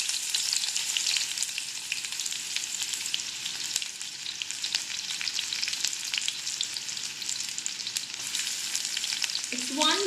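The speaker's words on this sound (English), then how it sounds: "let's start by putting in sliced onions into this hot oil" Sliced onion, one big onion cut finely, frying in hot oil in a pan for a potato and onion dish, giving a steady, dense sizzle throughout with no talk. A brief louder disturbance comes near the end.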